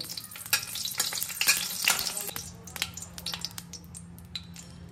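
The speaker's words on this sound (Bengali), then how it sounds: "কড়াইয়ের মধ্যে দেব পরিমাণ মতন তেল, কয়েকটা শুকনো লঙ্কা ভেজে তুলে নেব" Dried red chillies fry in oil in a kadai, a close, steady crackling sizzle with sharp pops and the occasional clink of stirring.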